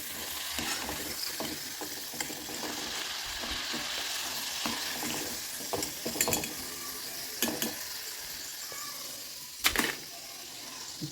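Snacks fry in hot oil until crisp and brown in a home kitchen, with a constant close sizzle, intermittent stirring and scraping against the pan, and a few sharper metallic clinks.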